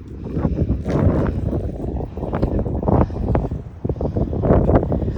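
Gusty, chilly wind buffets the microphone outdoors in Austin, Minnesota in uneven surges, a low rumbling roar that swells and eases across the clip, close and fairly loud.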